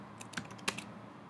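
A handful of quiet, quick keystrokes on a computer keyboard, a short uneven burst of clicks in a still room.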